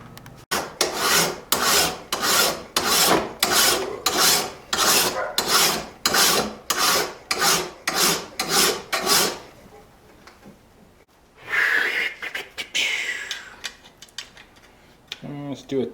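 A hand rasp files down a forged machete's handle in a steady run of about fifteen even back-and-forth strokes, close and loud, followed by quieter handling noises and a brief scraping burst.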